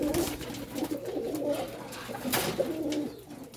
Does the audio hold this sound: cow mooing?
no